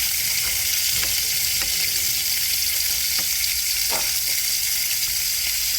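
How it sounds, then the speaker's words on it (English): Lamb sears in a hot pan with a loud, continuous sizzle and crackle, broken by occasional soft stirring clicks, close up and with no talk. "And we sear for a few minutes while we cut the onions"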